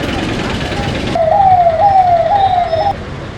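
An ambulance siren wails in a rising, repeating tone on a street where bike accidents have happened, cutting in loud and close after a burst of broadband noise, over steady traffic rumble.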